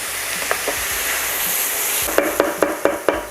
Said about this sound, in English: Saute these down nicely.